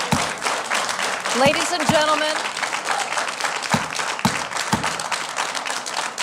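An audience at a school board meeting claps in a steady, moderately loud round with some crowd noise, while a voice speaks over the applause.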